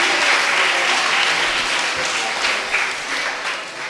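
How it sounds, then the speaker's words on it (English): A crowd at a primary school end-of-year ceremony applauds steadily, a dense wash of clapping that holds for a few seconds before tapering slightly. "Let us give them a round of applause."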